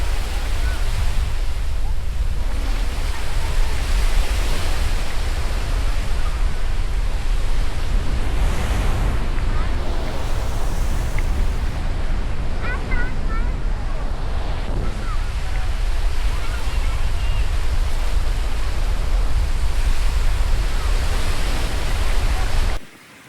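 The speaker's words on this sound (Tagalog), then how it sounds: "let's just pause for a moment and appreciate this view and the sound of the waves" Ocean waves roll and break steadily on Boracay's beach, a broad continuous wash of surf with some wind, loud and close throughout and fading out at the very end.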